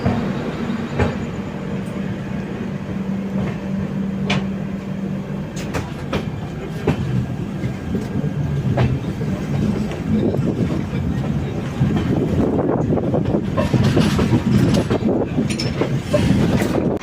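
A new LHB-coach Garib Rath Express from Yesvantpur to Kochuveli rolls along in a continuous loud rumble, heard from on board with wind buffeting and rhythmic wheel clatter that grows heavier in the second half.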